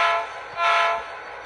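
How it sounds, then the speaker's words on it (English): Short horn from an Athearn Genesis HO scale GP50 model locomotive with a P5 horn sound, a steady tonal blast that swells, dips briefly, then sounds again and fades, with no talking. "F3 is the short horn."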